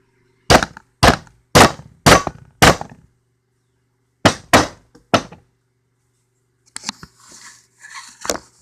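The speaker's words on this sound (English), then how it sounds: "I can't hammer with one hand here" Sharp metallic hammer blows ring out, a quick run of five strikes, a pause, then three more, followed by softer clattering and shuffling.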